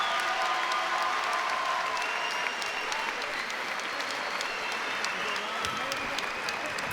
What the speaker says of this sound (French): Et les applaudissements du Palais des Sports